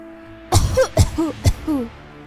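An old woman coughing in a cartoon: three harsh, raspy coughs in quick succession, each followed by a wheezy, croaking breath, close and loud.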